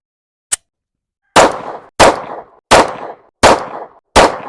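Rost Martin RM1C pistol firing Remington military and law enforcement 115 grain training ammunition on an outdoor range: a faint click, then five loud, sharp shots in an even, steady rhythm, with no talking.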